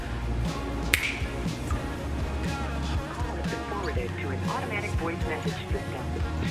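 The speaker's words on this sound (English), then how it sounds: "So when I snap my fingers, all of this is gonna be done." A single sharp finger snap near the start, heard over a person talking and mealtime background noise.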